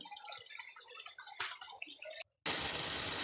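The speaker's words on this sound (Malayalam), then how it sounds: "ബ്യൂട്ടിഫുൾ ആയിട്ടുള്ളൊരു ഫൗണ്ടൈനാണ്" Water splashes steadily from a lightweight fibre fountain in a Ganesh design with built-in lights, a continuous close trickle that turns abruptly louder and brighter near the end after a brief gap.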